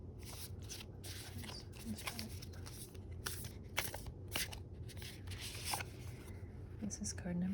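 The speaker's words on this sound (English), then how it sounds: "sometimes a card will flip out of the deck or fall out of the deck while I'm shuffling" Oracle cards shuffled by hand in a close, quiet setting, giving soft repeated riffling and flicking bursts with light papery snaps, steady throughout with faint low background hum.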